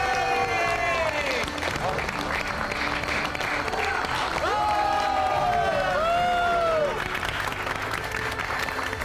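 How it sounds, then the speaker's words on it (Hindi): A crowd applauds and claps steadily throughout, a continuous wash of hands at moderate loudness, while voices talk over it with some tonal vocal sounds. "अरे ताली क्या बजाता है मैन?"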